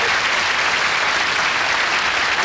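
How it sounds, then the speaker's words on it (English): Studio audience applause from a television comedy show, a dense, steady wash of many hands clapping, loud and continuous throughout. "Now you can applaud."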